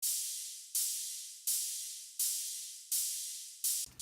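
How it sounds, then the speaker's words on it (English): Hi-hat sample with the top of its attack cut off: six soft, airy hissing hits at an even pace, each swelling and fading in a steady pattern, faint and alone. "next was the hi-hats"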